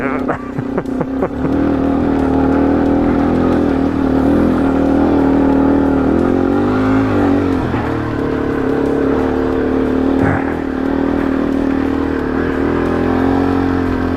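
A Yamaha TW200 motorcycle engine drones loudly and steadily up close on a Capital Forest trail, with a few rev changes and rattles as it rides. A rider talks over it.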